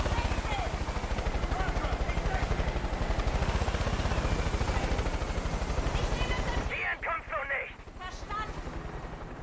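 Helicopter rotor chop from the Far Cry 5 video game, a steady loud pulsing thump that holds for most of the clip and then breaks up near the end.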